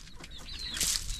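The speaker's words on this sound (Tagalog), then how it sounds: "Magpapatuka na tayo ng manok." Chickens being fed in a rural province yard give short clucks mixed with a burst of wing flapping. The sounds are close and moderately loud, with no talk.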